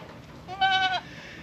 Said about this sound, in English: As you can see, here are my goats, my weanling goats.